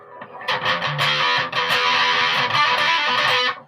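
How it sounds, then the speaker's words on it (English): An electric guitar is played through a fuzz pedal, giving a loud, saturated, buzzing tone with several strummed chords ringing close up before stopping sharply. "That's a wee bit fuzzy. That's my fuzz pedal."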